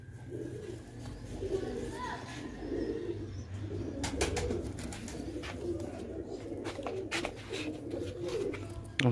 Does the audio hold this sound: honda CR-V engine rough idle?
no